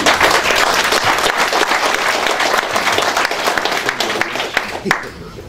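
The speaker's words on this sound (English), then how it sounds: "please give a round of applause to our committee members" An audience at a county Republican executive committee meeting claps for the committee members, dense sustained applause that thins and tapers off toward the end.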